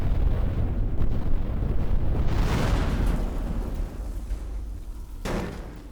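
A long, loud explosion in the destruction game Teardown, with a heavy low roar that rolls on for several seconds and fades. A sharp crack comes near the end.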